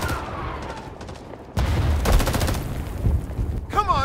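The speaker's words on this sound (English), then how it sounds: "Shit! Enemy fire!" Enemy gunfire in a video game: a loud burst of rapid shots that fade out, leaving a quieter stretch before more gunfire, with a voice briefly heard.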